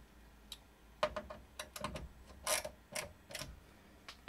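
Motherboard screws being tightened into a modded Power Mac G4 case for a modern gaming PC, a series of small close ticking and ratcheting clicks from a screwdriver, irregular and faint, with no talking.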